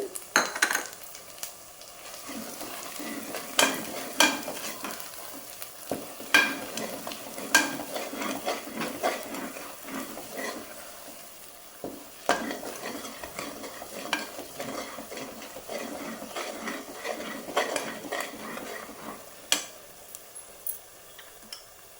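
Mustard seeds and fenugreek fry in hot oil for a coriander leaf thokku, giving a soft steady sizzle with scattered popping and occasional spoon-on-pan scrapes and taps, fairly quiet and close.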